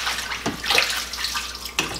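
Winter-grown kale being rinsed and tossed in cold water in a kitchen sink, giving close splashing and running-water sounds with a few sharper swishes, no talking.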